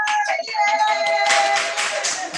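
A small office sales-meeting audience claps and cheers for Mr. Wordsworth in a brief, close burst of applause mixed with whoops.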